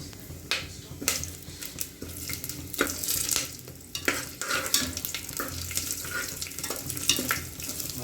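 Ground masala paste frying in hot oil in a home kitchen for kushka, with a lively sizzle broken by repeated stirring clatters and scrapes close by, and no talk.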